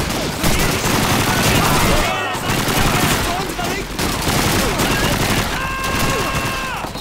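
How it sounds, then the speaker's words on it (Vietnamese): Rapid gunfire bursts from Call of Duty 2 gameplay, loud sustained automatic fire with overlapping shots and brief pauses, while a player talks over it. "Súng này bắn đã này."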